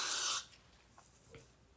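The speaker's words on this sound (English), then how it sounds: "I go in with the glue spray first." Glue spray hisses from an aerosol can onto hair in one short, close burst, then cuts off, leaving a faint quiet room with a couple of small handling sounds.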